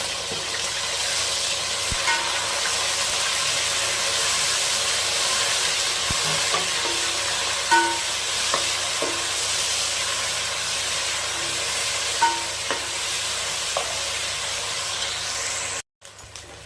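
Garlic sizzles and spits in hot oil in a pan for mutton biryani, a bright continuous hiss with occasional spoon taps and scrapes, close and fairly loud, ending abruptly.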